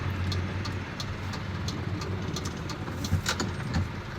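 Morning road traffic on the commute to work, a steady broad rumble of cars and engines with occasional swells from passing vehicles, no talking.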